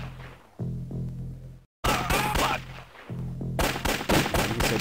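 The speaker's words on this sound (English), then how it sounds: "So I've got this automatic rifle here." Automatic rifle fire in the video game Redfall: loud rapid bursts of gunshots, a brief pause, then sustained rattling fire with heavy game noise underneath.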